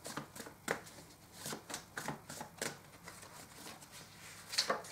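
Tarot cards are shuffled and drawn, giving a run of quiet, crisp riffling flicks and slaps in irregular bursts, close by with no talking.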